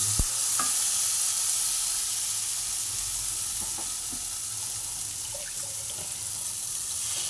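Spice paste with sugar frying in a pan for a pumpkin, potato and prawn curry, a steady close hiss of sizzling with faint scrapes and taps of a spatula being stirred, no talking.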